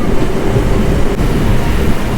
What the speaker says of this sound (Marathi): पाऊस कसला सडकतोय